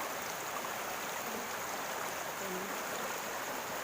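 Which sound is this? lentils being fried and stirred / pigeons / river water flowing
river water flowing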